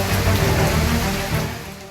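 Heavy rain in Shimla, Himachal Pradesh, during a cloudburst, makes a dense continuous wash of sound, loud and close, with no talk.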